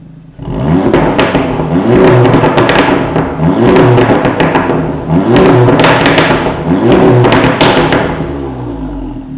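Audi S3 8V with a straight-pipe exhaust and its valves open, revving hard in four loud, repeated bursts that swell and fall back, with a raspy, crackling roar close by.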